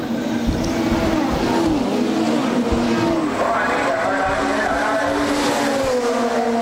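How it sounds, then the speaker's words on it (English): Touring cars race through the streets of Macau in a 2007 WTCC round, a Seat and a BMW among the pack. A loud, steady engine drone with shifting pitch fills the whole stretch as the cars pass. "can't see that Andy Prio's going to make it past that Seat and past the BMW."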